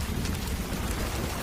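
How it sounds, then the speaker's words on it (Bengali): Heavy rain pours down during a stormy monsoon night, a dense, constant wash of rainfall close by with a low rumbling undertone like distant thunder, no voices. "ঠিক তখনই আকাশ ভেঙে বৃষ্টি পড়তে লাগল।"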